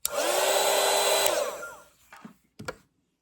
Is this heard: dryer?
yes